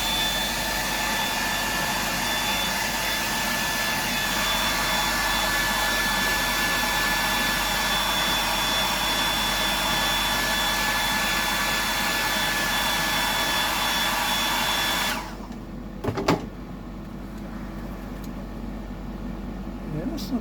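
A heat gun or dryer roars loud and steady while drying paint on a 100mm pour-painted Sammy, then cuts off abruptly, leaving a quiet room with a few small knocks.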